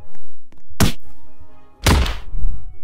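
Two heavy, hollow wooden thunks sound as punches land in the Boxing Friends Simulator video game, the second louder and longer, with a few faint taps between them and no speech.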